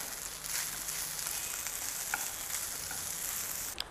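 Onion and cooked rice sizzle steadily in a hot pan for fodnicha bhat, a soft continuous frying hiss close by, broken by a few light clicks of stirring and a sharper tap near the end.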